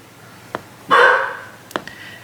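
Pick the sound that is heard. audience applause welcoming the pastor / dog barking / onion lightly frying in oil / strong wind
dog barking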